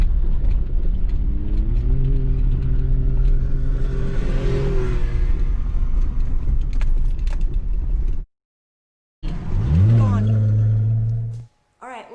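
An off-road vehicle in the Bear Mountain OHV area is driven recklessly, its engine loud and close, droning and revving. The sound cuts out briefly, then the engine returns with a rising surge before it stops.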